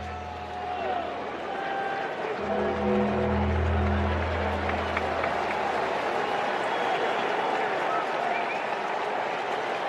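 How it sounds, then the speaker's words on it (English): Baseball crowd at a Cincinnati Reds versus Chicago White Sox night game, a steady roar of fans cheering under play-by-play commentary, swelling briefly a few seconds in before holding at a loud, even level. "Fans cheering him on."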